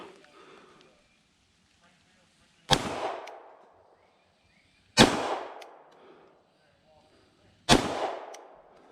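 Three loud, sharp gunshots fired at bowling pin targets during a summer run-and-gun shooting match, spaced a couple of seconds apart, each followed by a short echoing decay over a quiet outdoor background.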